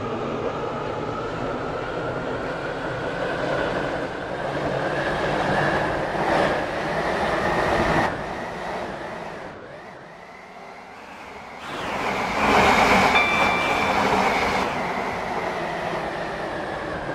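A Stepford Connect passenger train in a video game rolls along with a steady rumble and clatter from inside the carriage, easing into a quieter stretch midway before the loud running noise returns, with no talk.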